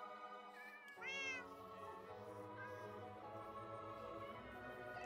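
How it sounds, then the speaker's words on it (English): A cat meows in Minecraft, one distinct rising call standing out over steady game music and ambient background tones. "I have two good cats."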